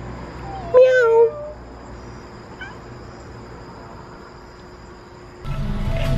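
A cat lets out one clear, rising meow up close, followed by a fainter second meow, against quiet room noise.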